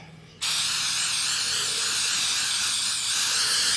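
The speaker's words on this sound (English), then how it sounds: "I'm gonna spray a little bit more right there." An aerosol can sprays in one long continuous hiss onto a motorcycle fuel tank during rust repair, starting abruptly and holding steady close to the microphone.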